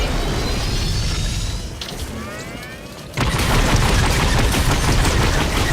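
Gunfire in the Fortnite video game comes as dense, loud bursts of rapid shots. It drops briefly and then returns abruptly even louder.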